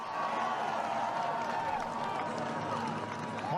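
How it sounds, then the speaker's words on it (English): A large crowd cheers and roars in a continuous, dense wash of voices, steady and loud from start to finish, with no single voice standing out. "But listen to the crowd."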